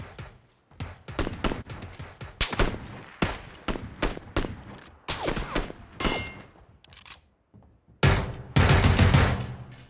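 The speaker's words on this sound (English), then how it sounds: "I went back in time and I shot off those guns just to let you know." Gunfire in PUBG, bursts of rapid loud shots in uneven volleys separated by short gaps, ending in a denser sustained barrage.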